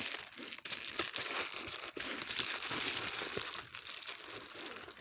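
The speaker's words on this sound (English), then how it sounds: "Let's get into it as I start unwrapping." Plastic wrap is peeled and crinkled off an album, with irregular close crackling and a few sharp tearing bursts throughout.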